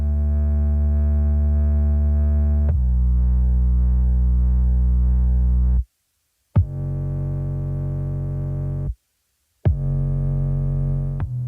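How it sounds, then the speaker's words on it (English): Synth bass made from a clean layer glued to a quieter distorted layer plays long sustained notes, loud and up close, separated by two short silences, with a sharp attack at each new note. "a very clean synth bass and then a very distorted synth bass that's turned way down, and they are just glued together"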